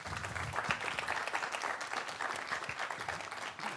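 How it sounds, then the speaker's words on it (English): An audience applauds a visiting professor after a lecture on a campus, sustained dense clapping that is moderately loud and even throughout. "Give a round of applause, please, for Dr. Raheb."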